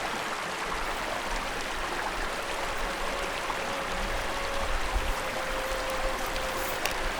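The Narraway River rushes in a steady, continuous wash of flowing water in the Canadian wilderness along the Great Divide Route, with no voices over it.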